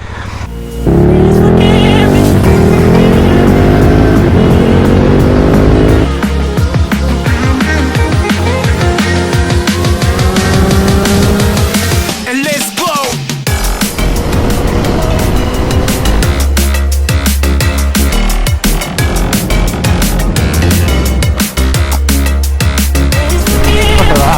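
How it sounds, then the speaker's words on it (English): A Royal Enfield Interceptor 650 motorcycle on a test ride, with a sidecar mentioned. The engine roars loud and close throughout, shifting in pitch as it revs and changes speed, and there is a brief lull about midway. "thought I'd go out for a test ride, and this is what they've got, the Royal Intercepter 650"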